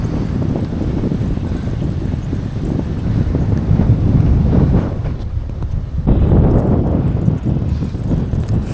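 Strong wind buffets the microphone while cycling on an asphalt road, a continuous low rumbling roar that swells and dips, loud and close, with no talking.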